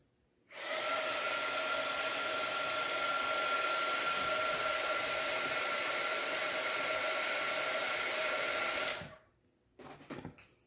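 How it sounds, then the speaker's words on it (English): A craft heat-tool dryer blows steadily at close range, a loud continuous whoosh with a faint whine, then switches off, followed by a few small clicks. "So I will run my dryer a little bit. I have one of those heating tools."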